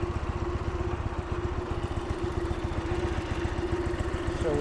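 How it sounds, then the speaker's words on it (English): A 1976 Dnepr MT-9 motorcycle engine runs steadily and close by, with a rapid, even thumping idle and a faint rattle throughout, and no talk. "We're also gonna let you see how the bike gets started with a Kickstarter"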